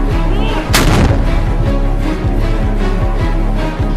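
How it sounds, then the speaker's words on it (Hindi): Rocket launcher fire by Chechen fighters in the Russia-Ukraine war, with one loud, sharp blast followed by a series of repeated booming thuds and rumbling detonations, harsh and close, with no talking. "इन चेचेन लड़ाकों ने रॉकेट लॉन्चर उठाकर वहां हमलों को अंजाम तक"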